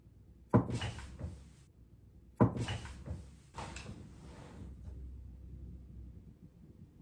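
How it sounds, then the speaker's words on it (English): Two sharp knocks sound in a quiet bedroom during a ghost-hunting session in a home, each a sudden loud thud followed by a rumbling decay, spaced about two seconds apart with no talking. "I swear I heard a knock."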